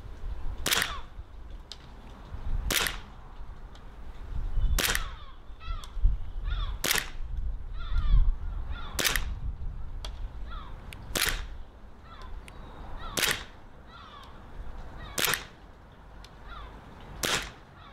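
A WE G17 gas blowback airsoft pistol fires BBs as sharp, loud single cracks with a mechanical slide clack, about nine shots spaced roughly two seconds apart, with faint background noise between shots and no talking.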